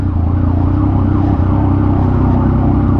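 Dense, steady road noise from heavy, stop-and-go traffic on EDSA in Manila, heard from a Yamaha MT-09 motorcycle, with a continuous close rumble of engines and a siren-like tonal wail running underneath throughout.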